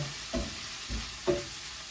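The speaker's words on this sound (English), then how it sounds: "we continue with the frying in the olive oil." Olive oil sizzles steadily in a pan, frying dried sardines and chillies, while a utensil stirs and scrapes a few times, with no talking.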